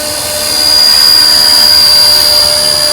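A WLtoys K170 Black Hawk UH-60L RC helicopter flies close by, holding against a breeze. Its electric motor and rotors give a steady whine with a thin high-pitched tone, fairly loud and unbroken throughout.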